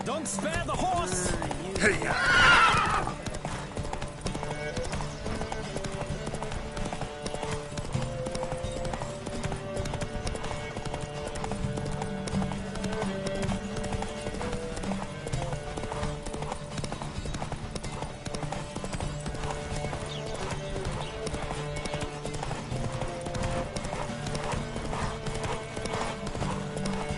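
Horses gallop in a race in the video game The Witcher 3, a rapid, continuous drumming of hooves, with a sharp burst at the start and a steady rumble beneath throughout.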